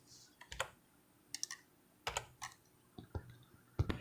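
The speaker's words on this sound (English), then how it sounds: "I typed in those numerals" Numbers typed on a computer keyboard, several short bursts of crisp close key clicks separated by brief pauses in a quiet room.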